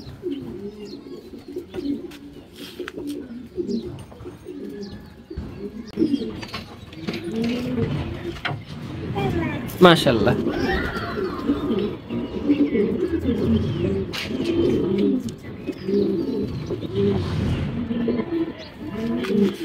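Racing pigeons coo in soft, repeated rolling phrases throughout, near and steady, with a short exclamation spoken over them and a few chirps scattered among the calls.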